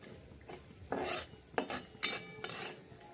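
Fried makhana (fox nuts) scooped out of a pan, with a few distinct scrapes and clinks of a metal spoon against the pan, close and moderately loud, separated by short pauses.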